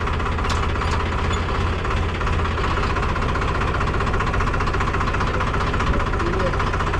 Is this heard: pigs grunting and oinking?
no